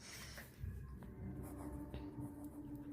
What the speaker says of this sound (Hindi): तो अब हम यहाँ पे लिखेंगे